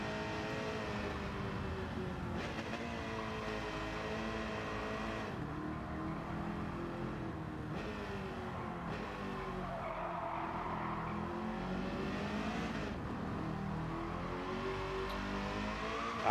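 Race car engine in Gran Turismo 7, a sustained high revving whine that rises and falls with gear changes, steady and loud throughout with no talking.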